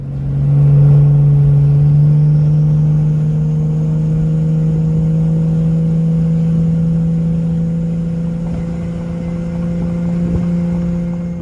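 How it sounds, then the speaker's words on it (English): A turbocharged Lexus GS300 with an open downpipe cruises down a highway, its loud, steady engine drone holding a constant pitch from start to finish with a raspy exhaust edge and no talking. "Here's the car driving down the highway with open downpipe."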